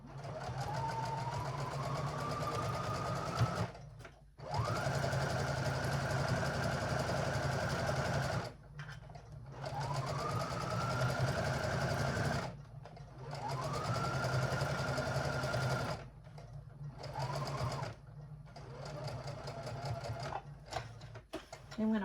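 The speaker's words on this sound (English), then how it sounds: "for my basting stitch, I'm going to make sure that it's as wide as possible and it has the least amount of tension as possible" A sewing machine runs a wide, low-tension basting stitch in several long bursts of steady whirring, separated by brief pauses.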